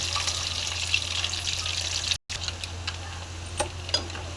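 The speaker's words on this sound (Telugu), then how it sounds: "ఎగ్స్ అనేవి ఇలా కాస్త గోల్డెన్ బ్రౌన్ వచ్చేంత వరకు ఫ్రై అవ్వనివ్వాలి" Boiled eggs fry in hot oil in a pan until golden brown, giving a steady close bubbling sizzle with occasional light crackles and a brief dropout midway.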